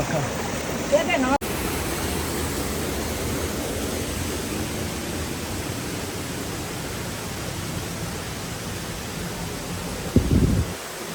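Floodwater from the hills rushes down a stream at night, a steady broadband roar of running water that fills the whole stretch, with a brief louder splash near the end.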